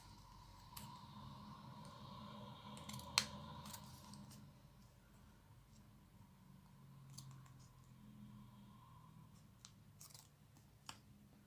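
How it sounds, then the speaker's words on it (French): Scissors snip off excess label material while making a Christmas craft embellishment, a few sharp, faint clicks and cuts spread out over a quiet room background, with no talking. "Ce qui dépasse en étiquette, c'est simple, hein, je vais venir y couper."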